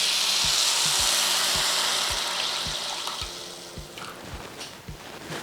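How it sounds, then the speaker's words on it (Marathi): Water is poured onto sugar in a pan to make syrup for rava coconut laddoos: a steady, fairly close rushing hiss that gradually eases, with a regular series of soft knocks underneath and no talking. "साखर बुडेल एवढंच पाणी टाकायचं आहे"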